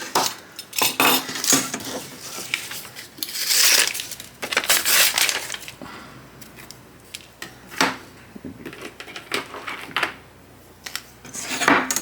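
A knife scraping and scoring along the edge of HIPS plastic sheet to mark a chamfer gives repeated short rasping strokes in uneven bursts, fairly close and with no talking.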